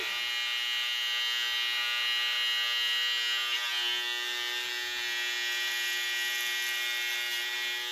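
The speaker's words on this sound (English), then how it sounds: "I'm using the corner of the trimmer to kind of go in" An electric hair trimmer buzzes steadily at close range as it cuts hair around the ear during a home haircut, a constant high-pitched hum with no voices.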